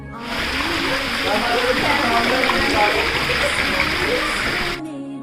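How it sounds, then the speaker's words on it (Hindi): Babbling stream of flowing water at Shiv Khori, a steady close rush with splashy gurgling texture that holds evenly for about four seconds before cutting off. "और अब सुनिए बहते हुए पानी की कलकल करती हुई आवाज़।"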